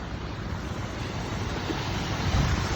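Heavy rain pours steadily in Malaysia as a dense, continuous broadband roar with no gaps, loud and close, with no voices.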